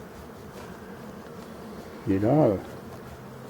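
Honeybees at a hive entrance in Brittany, returning with pollen, give a steady low buzzing throughout, with a short spoken word from a nearby voice over the hum near the end.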